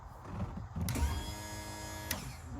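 A small electric power trim motor on a Sea Ray Sundeck boat outdrive whines steadily for a couple of seconds, rising in pitch, with a faint mechanical bind and click near the end.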